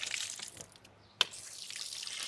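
Water trickles and splashes steadily from a 1628 stone drinking fountain in a quiet Spanish mountain town, a continuous close hiss with one brief sharp splash midway, no talk.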